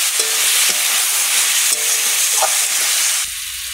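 Rupchanda fish curry with chalta and kochu sizzles and is stirred in a pan, a loud continuous frying hiss that drops and changes character near the end as water goes in.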